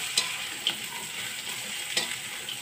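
Tempeh sizzles steadily in a hot pan for orek tempe, with a few sharp clicks of a utensil stirring it, moderately quiet and close, no talking.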